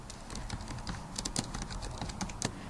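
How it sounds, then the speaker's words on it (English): Fast, steady typing on a computer keyboard, close and fairly quiet, with crisp individual key clicks running continuously and no talking. "I'll go ahead and type in my name"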